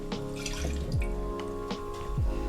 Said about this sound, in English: Let's pour it into this clear glass.